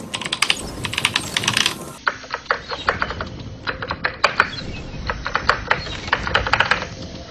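Rapid keyboard typing in the game Epistory, a dense run of crisp key clicks heard close and loud, with brief bursts and short pauses between words and no voices.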